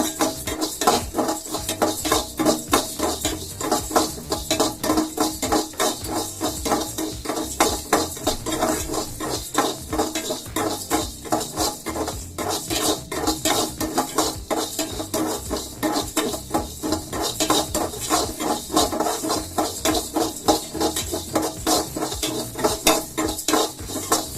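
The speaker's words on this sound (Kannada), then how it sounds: "ಚಕ್ಕೆ ಮತ್ತೆ ಲವಂಗ ಈ 3 ಒಟ್ಟಿಗೆ ಹಾಕೊಂಡು ಹುರ್ಕೋಬೇಕು 2 ನಿಮಿಷಗಳ ಕಾಲ" Whole cinnamon sticks and cloves being dry-roasted in a pan for batani bath, a steady busy scraping and rattling of spice against metal as they are stirred, close and continuous with no talking.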